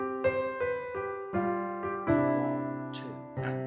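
A piano plays a short phrase with the left hand in correct time: clear, close chords struck at steady, even intervals, ringing and overlapping, with a faint breathy noise near the end.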